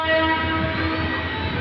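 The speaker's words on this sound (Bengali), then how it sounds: "কালুনি এক্সপ্রেস ট্রেনটি তেজগাঁও রেল স্টেশন ছেড়ে যাচ্ছে" Kalni Express passenger train pulling out of Tejgaon railway station, a loud, sustained rumble of rolling wagons with a steady tonal horn-like drone layered over it, close and continuous without pauses.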